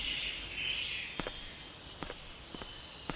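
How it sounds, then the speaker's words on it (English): Footsteps in the stealth game Metal Gear Solid 3, four or five soft separate steps over a steady hiss of insect-like ambience, with no one speaking. "Footsteps."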